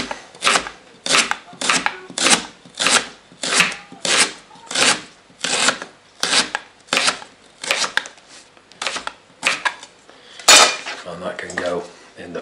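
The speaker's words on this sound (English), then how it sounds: "I'm just going to finely slice it so that it extracts on the boiling as much of the ginger as possible" A knife finely slices ginger on a cutting board in a home kitchen, about a dozen crisp, evenly paced chops ringing close and clear, ending with a brief clatter of utensils.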